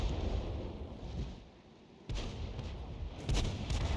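Tank cannon fire in the FV304 war video game sounds as heavy booming blasts with a rumbling tail, one sharp report landing after a quiet gap and more crashing shots following, at a moderate distance.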